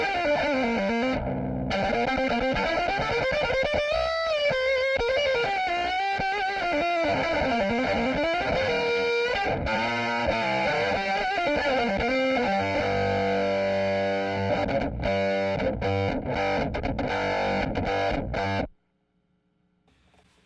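A bowed fiddle played through a Behringer SF300 Superfuzz pedal gives loud, buzzy, heavily distorted sustained tones with sliding pitch. It plays continuously for about eighteen seconds, then cuts to near silence.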